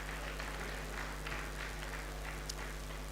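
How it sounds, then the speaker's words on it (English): Faint, distant audience applause at an institute's Founders Day event, a soft continuous patter of clapping over a steady hum. "A round of applause for him, distinguished please."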